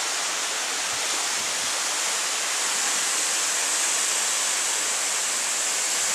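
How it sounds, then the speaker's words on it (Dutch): Waterfalls in Springbrook National Park roar as a steady, loud wash of falling water, dense and unbroken throughout with no voices. "En hier zijn we dan beneden bij de watervallen."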